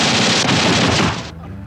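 Automatic gunfire bursts loudly in a scene from a Filipino action film, a dense, continuous rattle of rapid shots lasting over a second before cutting off abruptly to quieter background.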